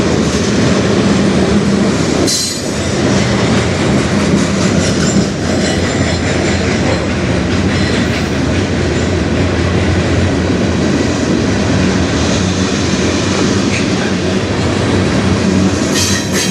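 A freight train with many graffiti-painted cars rolls steadily past on the Strathroy Subdivision, a loud, continuous rumble of wheels and cars close by, with a faint squeal and rattling clatter throughout and no voices.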